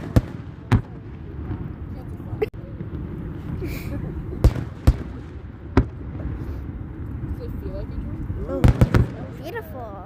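Fireworks burst over the water at SeaWorld: a run of sharp, scattered booms and pops, some in quick clusters, rising above a steady murmur of crowd talk.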